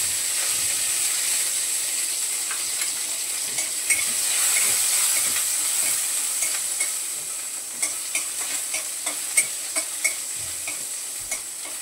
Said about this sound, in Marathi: हिरवी मिरची ती टाकणार आहे फोडणीमध्ये